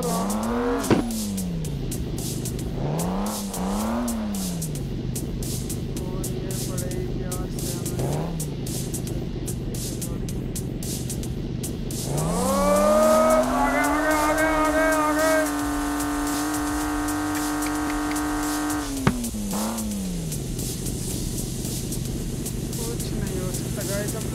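A car in the video game Impossible Car Stunt 3D revs up and down in short repeated bursts while it reverses and edges about. Then comes a long rising, sustained engine whine, with a voice talking now and then.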